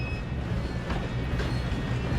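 Moving train in Red Dead Redemption 2 rumbles loudly and steadily with rolling wheel noise and faint high squeals, close and continuous, with no voices.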